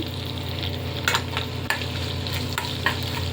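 Slit dried red chilies fry in hot oil for a brinjal-tomato chutney tempering: a steady close sizzle and crackle with a few sharper pops and stirring scrapes.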